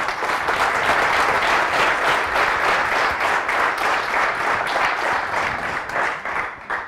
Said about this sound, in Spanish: me gustaría pediros un aplauso para ella